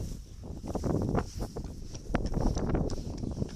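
Icelandic horses walking outdoors in Tversted, hooves clip-clopping in a loose, uneven rhythm at moderate distance with wind and rustling behind.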